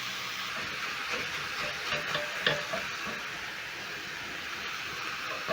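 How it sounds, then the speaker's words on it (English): Minced beef and carrots sizzle steadily in a pan while a spatula breaks up the meat, with faint intermittent scraping scrapes over a continuous frying hiss. "I'm going to cook my minced meat while breaking down using my spatula"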